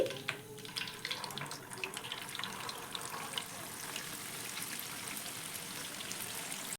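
Semolina pitha cakes bubble in frying oil with a constant, hissing, watery sizzle and a few faint knocks.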